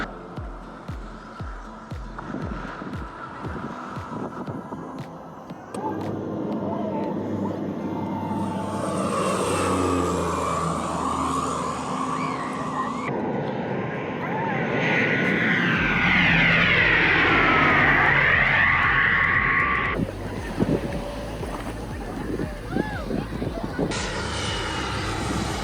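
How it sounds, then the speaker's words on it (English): Small aircraft engine droning low overhead at Maho Beach, St. Maarten, rising to a loud roar with a sweeping pitch change as it passes, over steady beach wind and surf noise. "Smaller aircraft. We didn't see any of the big airplanes on this day."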